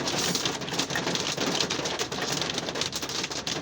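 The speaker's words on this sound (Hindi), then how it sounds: "और सूरत हाल ये है कि इस वक्त ओले जारी हैं, ये आप देख सकते हैं बाहर।" Hail pelts down outside at the Nathia Gali alpine resort in cold weather, a dense, steady hiss of pattering impacts filling the air without a break.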